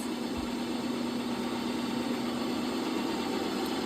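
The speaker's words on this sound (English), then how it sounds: "So the blade literally goes inside here, spins, and then comes back up and retracts." Ninja CREAMi NC301 ice cream maker running as its blade spins down into the pint, a steady, even motor drone that holds throughout with no talking.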